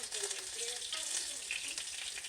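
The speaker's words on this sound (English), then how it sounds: "Starting to sizzle up nice." Fat and canola oil sizzle steadily in a hot pan for turkey and chicken meatballs, a dense crackling hiss with small pops, close and constant.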